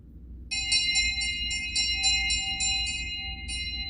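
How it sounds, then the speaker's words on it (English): A bell tolls repeatedly in a quick irregular series of bright, ringing strikes as a theatre sound effect in a stage production of Macbeth, moderately loud over a low background hum, with no talking. "The bell invites me."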